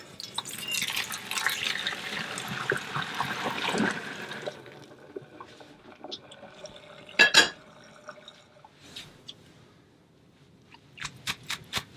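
Fresh homemade pasta and its cooking water are tipped into a colander. A rushing, splashing pour lasts a few seconds, followed by scattered drips and trickles as the water drains away, and a brief clatter partway through.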